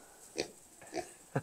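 Pigs on a farm by a barn give three short, soft grunts at an even pace, faint and a bit distant on a quiet chilly day.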